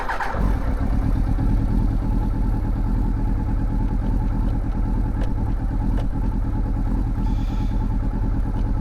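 A Yamaha R1 motorcycle engine runs steadily up close, a loud, rumbling idle with a slight start-up rise at the beginning and even pulsing throughout.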